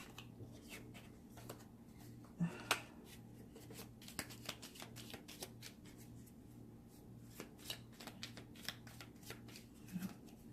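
Soft, quiet shuffling of small, slippery tarot cards, with faint papery slides and taps scattered over a low hum, a couple of sharper clicks near the start.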